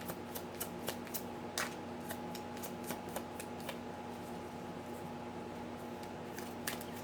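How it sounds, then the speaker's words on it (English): Tarot cards are shuffled by hand in a quiet room, a run of crisp, papery riffles and snaps spaced irregularly across several seconds over a steady low background hum. "All of my cards are pre-shuffled."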